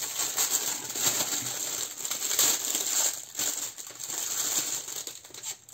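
Plastic packaging of craft albums crinkles and rustles continuously as it is opened up close, with small crackling bursts throughout.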